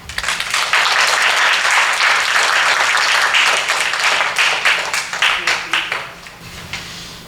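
An audience at a talk on health and wellness for the elderly claps loudly and steadily to welcome Dr. Perry Dworkin, the applause thinning into scattered claps near the end.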